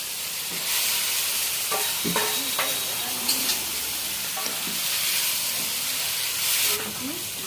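Chicken added to hot oil for a country chicken kasha, a loud continuous sizzle and hiss with scattered scrapes and clinks of stirring, close up, with a faint voice here and there.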